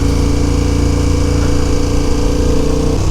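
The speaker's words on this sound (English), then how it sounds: "the bike's going to be running a lot healthier now" Steady, loud idle of a 2021 KTM 1290 Super Adventure R motorcycle engine, a continuous even throb running alone without speech, dropping slightly in pitch near the end.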